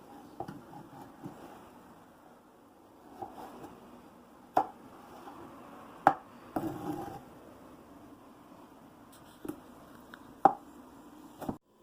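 A sharp knife cutting vegetables such as tomato on a board, with scattered single chops and taps at irregular intervals against quiet background.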